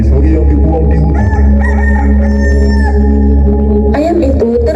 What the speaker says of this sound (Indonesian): Ayam itu terus berkokok